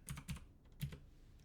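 Three quick keyboard key presses, soft clicks close by in an otherwise quiet room.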